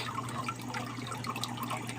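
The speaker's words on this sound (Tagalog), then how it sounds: "mahina na siya, tulo na lang." A weakened flow of water drips and trickles from a fish tank drainer into the filter, a soft, continuous patter of small drops close by with no voices.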